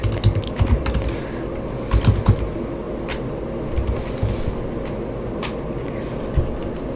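A computer keyboard is tapped in a few short, light bursts of keystrokes while a password is entered, soft clicks sitting over a steady low hum with no talking.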